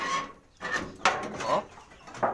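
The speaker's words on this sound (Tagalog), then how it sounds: "may manok pa sa loob" Chickens cluck in short bursts nearby, several soft calls spaced unevenly over a couple of seconds.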